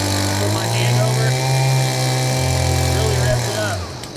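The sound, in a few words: Stihl BG50 gas leaf blower engine revving with hand over outlet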